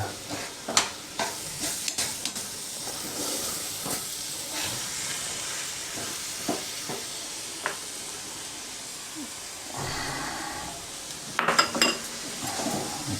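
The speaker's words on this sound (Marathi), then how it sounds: "ही साखर वितळेपर्यंत हलवा चांगलासा" Sugar being stirred in a pan until it melts, with a soft sizzle and hiss under the scrape and clink of a spoon against the metal, growing busier near the end.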